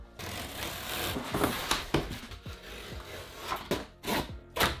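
A blade cuts through a cardboard sheet for a papercraft base, with rough scraping and tearing strokes in irregular bursts, close and fairly quiet.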